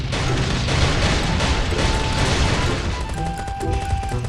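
A sticky bomb goes off in the survival game Last Day Rules Survival, in a dense, loud wash of blasts and gunfire-like crackle that runs continuously with no quiet gaps.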